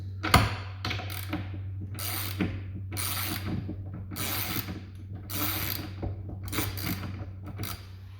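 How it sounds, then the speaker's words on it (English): A 9/16 socket wrench ratchets bolts off a skateboard in several bursts of quick, close metallic clicking separated by short pauses, over a steady low hum. "using my socket wrench, the bigger one, this is a 9x16 socket wrench, I'm going to take it off. I'm taking off the bolts."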